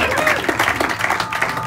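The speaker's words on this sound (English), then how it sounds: "The crowd has spoken, Ryan." A studio audience at a late-night talk show applauds and cheers in a steady, dense wash of clapping and shouts that holds at the same loudness for its whole length.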